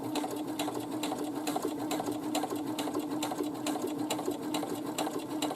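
A sewing machine runs steadily, stitching near the edge of a drawstring bag's side seam, its rapid even needle clatter going on without a break and up close.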